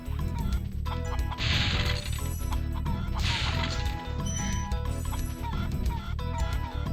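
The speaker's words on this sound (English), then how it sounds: "these chickens are getting in the way" Chickens cluck and squawk in the Spyro the Dragon game soundtrack, with bursts of flapping noise over a constant busy background of music and effects.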